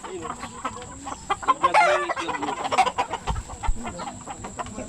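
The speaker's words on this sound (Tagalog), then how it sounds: "Dami pala manok dito, no?" Roosters and hens at the Taytay cockpit cluck and crow in irregular bursts, moderately close, over ambient background noise with faint human voices.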